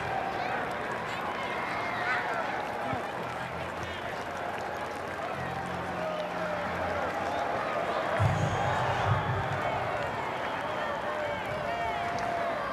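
A stadium crowd at the close of the Nebraska Red-White spring football game keeps up a steady wash of applause and crowd noise while an announcer talks over it.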